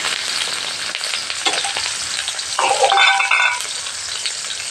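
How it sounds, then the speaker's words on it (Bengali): Chopped onions dropped into hot oil and ghee for biryani, a loud burst of sizzling and stirring that swells midway, then settles into a steady fry, with no talking. "দেখতে পাচ্ছেন তেলটা গরম হয়ে গেছে। এখন আমি এই পেঁয়াজগুলো দিয়ে দিচ্ছি।"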